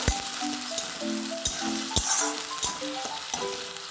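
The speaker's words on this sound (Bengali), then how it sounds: "নেড়ে চেড়ে কষিয়ে নেব" Palak paneer base frying in a pan, with steady sizzling and a series of sharp scraping and clinking stirs from a spatula at an irregular rhythm, close and fairly loud, with no voices.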